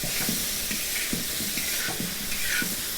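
Kaju paneer masala ingredients fry in a pan with a steady, fairly quiet sizzle, broken every half second or so by soft scraping strokes of stirring.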